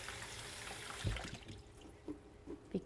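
Tap water runs steadily while grapes are rinsed, a soft continuous hiss that eases after a second, broken by a few light splashes and knocks near the sink.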